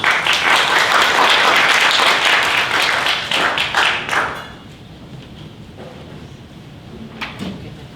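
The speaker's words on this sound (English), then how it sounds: "let's give them a round of applause to welcome them on the stage" An audience at a university forum panel discussion applauds to welcome panelists onto the stage, a dense burst of clapping that fades out after about four seconds, leaving quiet room tone with a few faint knocks.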